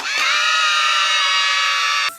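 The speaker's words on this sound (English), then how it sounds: "The kids scream." A crowd of children screaming together in a cartoon show, one loud sustained shrill chorus lasting about two seconds before cutting off abruptly.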